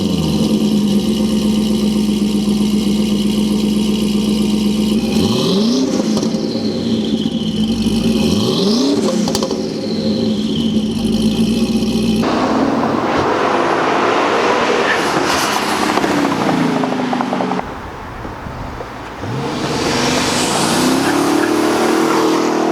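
A Chevrolet Corvette C5 Z06 engine drones loudly, climbing and dropping in pitch as the car revs and shifts under way, with a rougher surge of engine and road noise later on.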